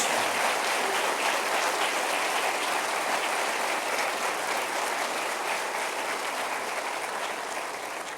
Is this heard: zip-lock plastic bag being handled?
no